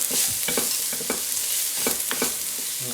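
Garlic fries in a pan for a chicken curry sauce base, a steady close hiss and sizzle with intermittent scraping stirs, and no voices.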